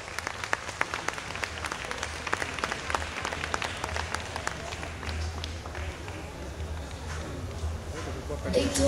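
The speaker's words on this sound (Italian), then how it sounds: "Forte l'applauso." Audience applause at a cosplay contest, with sharp close claps standing out over a broad crowd clatter and a low background rumble, the clapping continuing throughout.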